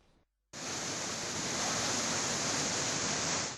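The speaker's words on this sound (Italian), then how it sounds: "Una grossa condotta dell'acqua in ghisa si è rotta in zona della Toletta, allagando completamente la fondamenta." Water gushes from a large burst cast-iron water main in the Toletta area of Venice, flooding the canal-side walkway. A loud, steady roar starts abruptly after a brief near-silence and continues without a break.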